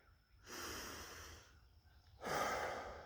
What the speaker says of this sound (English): You're breathing in, you're breathing out.